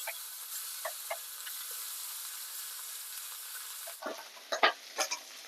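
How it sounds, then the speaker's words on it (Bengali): Fish fry in hot oil with a steady bright sizzle, then fresh pieces drop in and the hissing bursts louder with crackling spatters near the pan. "এরপর বাকি মাছগুলো ওই তেলের মধ্যে দিয়ে দেব।"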